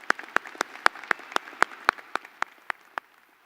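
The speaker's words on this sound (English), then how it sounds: "recognizing our regents and the important role that they play in our university with a big round of applause." Sparse clapping at a university commencement ceremony, a few distinct hand claps in a loose rhythm, thinning out over a few seconds in a quiet room.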